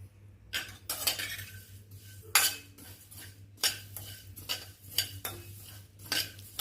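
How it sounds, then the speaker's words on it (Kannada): Coriander seeds, cumin, fenugreek and pepper dry-roasted without oil on low heat in a pan, with repeated metal spatula scrapes and clinks at an uneven rhythm over a faint steady hum. "ಸಣ್ಣ ಉರಿಯಲ್ಲಿ ಹುರಿಯಬೇಕು."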